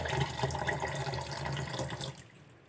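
Water runs steadily from a repaired faucet in a soft, splashing stream that stops abruptly near the end, leaving quiet, with no talking.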